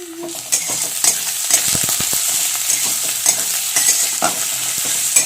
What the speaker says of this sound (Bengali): পেঁয়াজগুলো কিন্তু ভাজা হয়ে গেছে